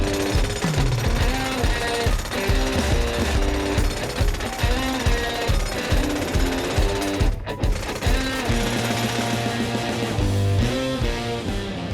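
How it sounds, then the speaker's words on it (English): A heavy-duty jackhammer breaking concrete pounds away continuously at close range, its loud, rapid hammering rattling on for the whole stretch with no let-up. "We got a heavy-duty jackhammer to make this job nice and quick."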